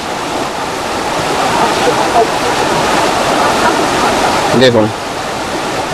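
Devkund waterfall in monsoon flood, its heavy current pouring down in a steady, loud broadband roar that fills the whole stretch, with a brief voice speaking near the end.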